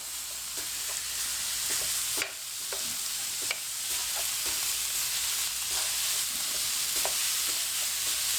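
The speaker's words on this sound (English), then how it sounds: "I'm going to get my mince all browned off first. We'll get all that done. Nice and simple. Give it a mash up." Minced beef browning in a frying pan, with a steady close sizzle running throughout and intermittent scraping clicks as it is stirred and mashed up, and no talk.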